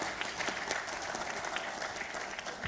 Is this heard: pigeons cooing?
no